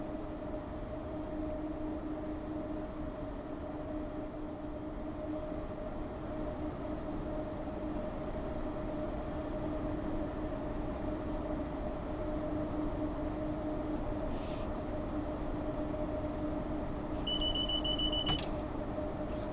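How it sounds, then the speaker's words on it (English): A Class 90 freight train in Train Sim World 6 runs with a steady rolling drone and a sustained high rail squeal, growing a little louder toward the end, with a brief extra tone near the close. "And I really do love the rail squealing."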